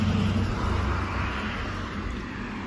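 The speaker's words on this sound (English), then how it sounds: "Many school buses." School buses drive past on a road, producing a steady low rumble of engine and tire noise that stays fairly loud throughout, with no voices.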